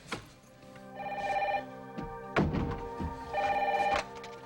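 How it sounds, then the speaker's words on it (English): A telephone rings in two bursts beneath a busy room, with a dull thunk between the rings and background noise throughout; the scene is a television soap opera. "Is that a phone? Yeah, your phone's ringing."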